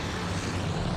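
Aircraft engines drone steadily through a close-range dogfight during a combat air patrol in the naval strategy game Task Force Admiral; the sound is a continuous, even roar with a low hum and no voices.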